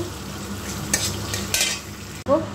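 Cashews and raisins sizzling in hot oil in a pan, a steady close crackle punctuated by a couple of louder stirring scrapes and a brief clatter near the end.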